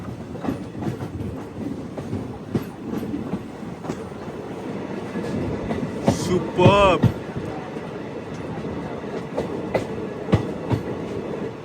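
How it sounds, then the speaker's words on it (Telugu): A DMU passenger train runs on the Katra to Srinagar line in Kashmir, its steady rumble and wheel clatter carrying throughout, with a short squeal near the middle and a voice speaking briefly over it. "world's highest railway arch bridge నుంచి పాస్ అయ్యే డిఎంయు ట్రైన్ ఇది"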